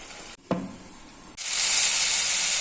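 Chicken chukka frying on a medium flame, a brief clatter of stirring followed by a loud, steady sizzle and hiss from the pan, close up and with no voices.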